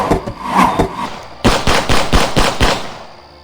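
Rapid cartoon gunfire crackles through a battle scene in an animated Hindi story about a tribal attack: scattered shots at first, then a dense burst of loud, evenly spaced bangs that fade toward the end.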